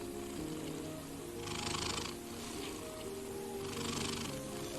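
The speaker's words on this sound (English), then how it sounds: "that's right, the magnificent purr." A cat purrs steadily and close up, a low continuous rumble that grows louder in two rhythmic swells against a faint background hiss.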